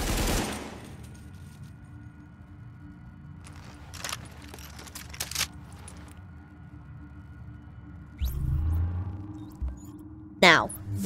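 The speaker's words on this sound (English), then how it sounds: "this black market AK-47 has pretty bad recoil." Gunfire from an AK-47 in the video game The Division, heard as a few short bursts spread across a quiet stretch, with a louder burst near the end.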